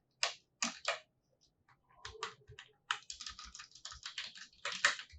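HTML code typed on a computer keyboard, crisp close key clicks, a few spaced strokes at first, then a rapid run of taps after a brief pause.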